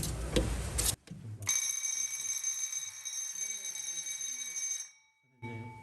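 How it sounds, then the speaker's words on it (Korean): A fire alarm recording receiver's buzzer sounds during an operation test, a steady high electronic tone held for about three and a half seconds after a brief clatter, with faint low noises beneath. "그 도통 그 단선이면 바로 부저도 울리고 빨간불이 들어오는"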